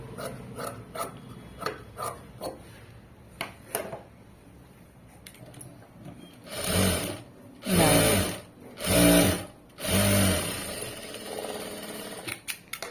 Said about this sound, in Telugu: స్ట్రైట్గా స్టిచ్ చేసుకుంటూ వెళ్ళిపోవాలి